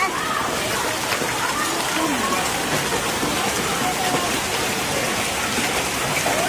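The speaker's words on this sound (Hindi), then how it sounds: "इस टाइम ये कैसी बारिश हुई है यार।" Heavy rain falls steadily after a hailstorm in Delhi, a dense, unbroken hiss close by that holds at the same loudness throughout, with faint voices beneath it.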